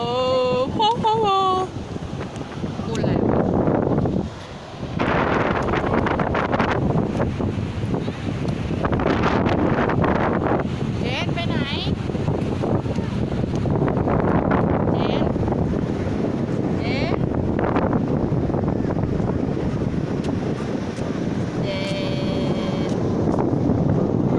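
Strong wind buffets the microphone continuously at the seaside in Hua Hin, a loud, rough roar with gusts rising and falling, while a person talks intermittently over it.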